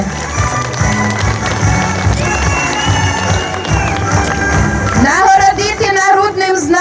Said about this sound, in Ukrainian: А ми підтримуємо оплесками.